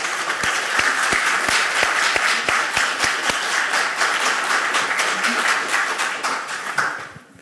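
Enthusiastic applause at a business awards gala, a dense crowd of clapping with a few sharp, rhythmic individual claps standing out near the front, tapering off at the end.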